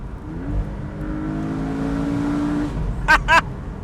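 A Porsche 718 Boxster's engine revs up while downshifting, a rising droning tone heard from inside the car, followed by two short sharp bursts near the end.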